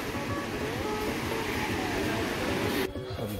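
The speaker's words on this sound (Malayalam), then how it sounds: "നമ്മൾ അടുത്ത് മെട്രോ ട്രെയിനിലാണ് പോകുന്നത്" A Chennai metro train heading to the airport rumbles along steadily, a low continuous drone with faint whining tones, heard fairly quietly from inside.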